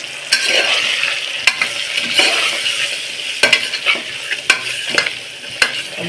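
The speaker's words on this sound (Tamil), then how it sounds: "கொஞ்சம் எண்ணெயில் வதங்கட்டும்" Masala and vegetables for a vegetable salna sautéing in oil, a steady loud sizzle with repeated scraping stir strokes and clinks of the spoon against the pan.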